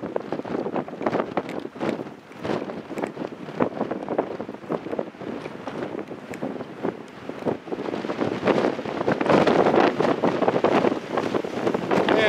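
Heavy wind buffets the microphone with constant rumbling roar and gusty bursts, loud and close throughout.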